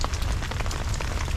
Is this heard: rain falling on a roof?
yes